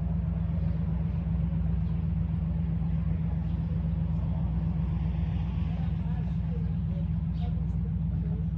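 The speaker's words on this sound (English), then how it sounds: "there's a truck just rumbling" A truck rumbles steadily close by for the whole stretch, a heavy low engine drone that masks the quieter sounds of a roadside near train tracks.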